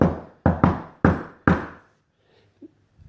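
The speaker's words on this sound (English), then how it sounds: "an example of something that I always do when I knock on the door is I just use a rhythm" Knocking on a door in a deliberate rhythmic pattern: five close, solid knocks grouped like a short drum beat, followed by quiet with a faint tap.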